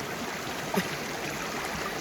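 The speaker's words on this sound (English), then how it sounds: "I had to come out here to the creek." Steady broadband rush of a flowing creek outdoors, a continuous watery wash with a faint splash or knock partway through, no voices present.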